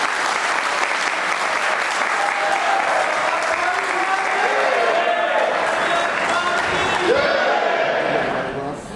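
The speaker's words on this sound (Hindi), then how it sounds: "एक बार इनके लिए जोरदार तालियां।" Large audience at a Hindi-language gathering of officials breaks into loud, sustained applause honoring a guest, dense clapping held for several seconds before tapering off, with voices and cheers rising through it.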